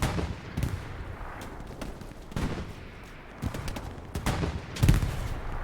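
Rifle shots ring out in a WWI video game battle re-enacting Tannenberg, a series of sharp individual cracks spaced irregularly, some near and louder, others more distant, against a quiet background.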